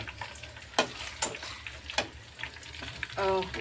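Peanuts and onions fry in a pan with a soft, continuous sizzle, punctuated by sharp scraping and stirring clicks at close range.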